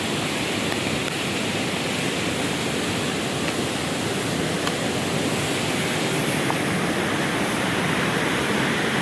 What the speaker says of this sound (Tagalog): Yung dam mismo makita yung bulwak ng tubig.